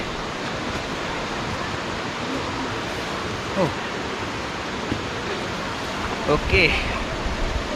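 A waterfall rushes beyond thick jungle foliage and elephant grass on a trek near Tenkasi, heard as a constant broad roar of water that never breaks, with brief rustles and a few spoken words over it.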